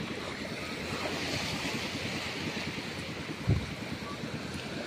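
Sea waves wash steadily around a boat on open water while wind buffets the microphone, a continuous broad rushing with a brief low thump partway through.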